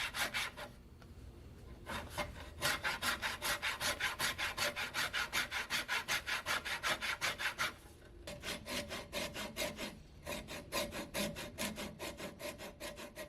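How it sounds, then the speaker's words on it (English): A handsaw cuts the bevel edges of a breasthook in tough walnut, a boat's sheer structure, with steady rhythmic push-pull strokes, close and loud, pausing briefly twice before the sawing resumes. "So here I'm using a handsaw to cut the edges of the bevel."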